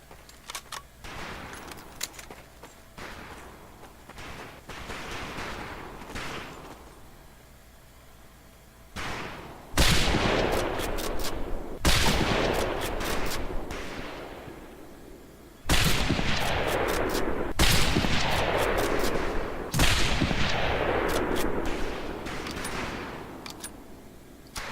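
Scoped rifle shots fired on a boot camp range in the 2004 video game Medal of Honor: Pacific Assault, heard as scattered sharp reports early on, then loud, rapid bursts of gunfire with echoing tails toward the end.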